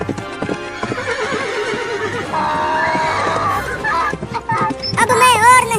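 A horse gallops with rapid clip-clopping hooves during a comedic chase, then lets out a loud high whinny near the end, with other sounds and voices mixed in.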